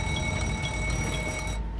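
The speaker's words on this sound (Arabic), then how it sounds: "انطلقت صفارات الإنذار داخل مقطورة السائق" A warning alarm sounds inside the driver's cab of express train 5418 as it speeds over the limit toward the station at Itami: a steady, continuous electronic tone held for under two seconds, alone, then cut off.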